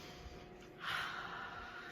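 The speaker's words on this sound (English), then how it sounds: "And he took a sniff" A single close sniff from a man stirring soup in a big cauldron of water, a short breathy intake that rises suddenly near the middle and trails off, with no talk over it.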